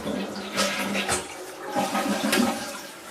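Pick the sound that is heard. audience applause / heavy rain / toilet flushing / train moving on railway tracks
toilet flushing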